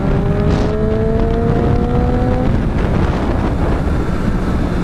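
A 2015 Triumph Street Triple motorcycle underway, its engine pulling with a rising tone through the first half under heavy, constant wind rush against the microphone.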